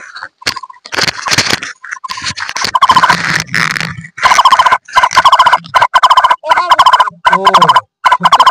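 A bird calling in a garden, a series of sharp, repeated close calls in quick bursts with short gaps, loud and near.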